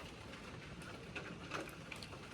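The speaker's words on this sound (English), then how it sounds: "I think this rain is gonna stop in a few minutes." Rain falls steadily on a rural property after a hot day, a faint soft hiss with scattered droplet patters and occasional brighter drips.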